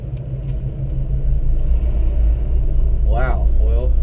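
A gutted Tesla P100D on slicks launches down a drag strip, producing a loud, steady low rumble throughout, with a voice breaking in near the end.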